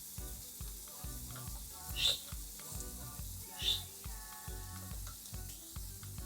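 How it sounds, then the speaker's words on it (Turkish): Onions sautéing with spices for a Turkish winter soup sizzle steadily in a pan, with rhythmic stirring clatter and two brief brighter hisses, close and moderately loud with no talk. "Soğanlarımız sotelendikten sonra baharatlarımızı ilave ediyoruz."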